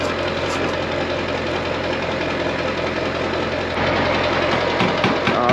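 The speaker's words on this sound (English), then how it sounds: "Let's kick our pump on. Let's blow some gas." A fuel transfer pump runs steadily, pushing gas through a hose at a ranch property, its continuous mechanical hum and knocking drone holding even throughout, with a slight shift in tone near the end.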